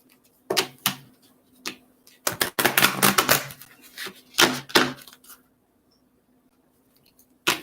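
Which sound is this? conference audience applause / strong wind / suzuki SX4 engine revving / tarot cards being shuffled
tarot cards being shuffled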